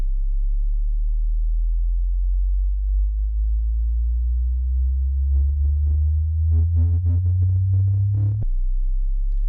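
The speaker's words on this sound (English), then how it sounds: "now we should hear some kind of actual dynamic movement as it sweeps across the frequencies" A steady sine tone sweeps upward across the frequency range as a smooth, loud, continuous hum that rises gradually, with faint fluttering overtones near the end before it drops away abruptly.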